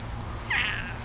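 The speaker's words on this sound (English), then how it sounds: "you just got that nice meow now" A cat gives a single short, clear meow up close, rising then falling over about half a second, against quiet background noise.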